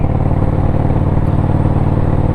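Motorcycle fitted with TAB Performance B.A.M. exhaust pipes and Zombie Baffles, set to standard mode, idles in a loud, close, steady deep burble with an even lumpy pulse throughout.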